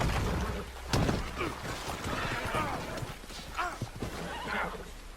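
A horse in Red Dead Redemption 2 lets out a loud whinny over clip-clopping hooves and game ambience, with a sharp thump early on.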